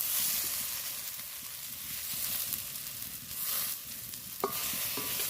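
Raw banana and fish curry sizzles and is stirred in a pan, a continuous frying hiss with soft scraping strokes and a sharp clatter of the utensil near the end.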